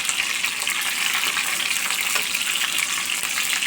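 Brinjal sautés in hot oil with green chilli and garlic for a Sankara fish curry, a loud, dense, continuous close sizzle with faint stirring underneath.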